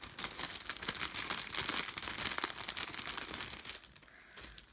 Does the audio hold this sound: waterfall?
no